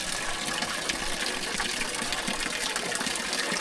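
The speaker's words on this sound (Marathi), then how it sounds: "हे एकदम नॅचरल पाणी आहे डोंगरातून पाणी येत आहे" Natural spring water from the mountain streams and splashes steadily from a stone spout by the Bhaleshwar Mahadev temple at Chandragiri, Kathmandu, a continuous broadband rush with no pauses, close by and fairly loud.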